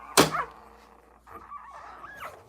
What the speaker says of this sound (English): We got puppies.